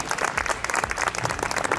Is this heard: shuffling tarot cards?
no